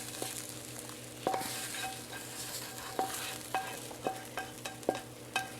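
A spoon stirs frozen peas and vegetables in a hot pan for a sweet potato and turkey shepherd's pie, with a soft continuous sizzle underneath and a series of sharp, irregular scraping clinks against the pan, close by.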